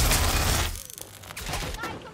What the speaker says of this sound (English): A very small hail of gunfire takes care of him just fine.